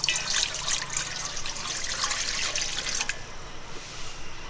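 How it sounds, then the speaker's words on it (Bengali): Water poured into a pot for boiling country-chicken eggs, a bright splashing stream in a few uneven bursts that stops suddenly, leaving a quiet room hiss. "আগে আমরা ডিমটা সিদ্ধ করে নেব জন্য এখন আমি পানি দিয়ে দিচ্ছি।"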